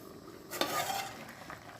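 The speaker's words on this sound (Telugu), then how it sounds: "పులుసు అండి గుబగుబ ఉడుకుతుంది కదా" Pulusu stew boiling in a pot, a short, quiet bubbling and sizzling burst with no voices.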